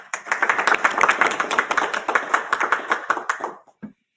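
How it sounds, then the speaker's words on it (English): An audience at a national awards ceremony breaks into a round of applause for an awards committee, many hands clapping in a dense, lively burst that thins out and stops abruptly near the end. "Please have a round of applause for Becky and her team"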